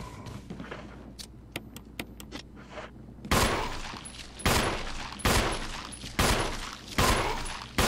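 Gunfire in Resident Evil HD Remake: a few soft, scattered clicks and taps, then five loud, evenly spaced shots with short decays, close and alone without talk.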